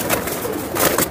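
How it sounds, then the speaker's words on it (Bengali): Pigeons at a pigeon farm give brief, soft cooing calls at close range, a short murmuring burst with no talking. "এক্সেপশনাল কবুতর তো"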